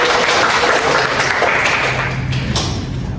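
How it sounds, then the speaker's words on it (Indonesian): Small group at the start of a group counseling session claps together, a loud, dense burst of applause close by that continues steadily and eases slightly near the end. "Boleh tepuk tangan bagi kita semua."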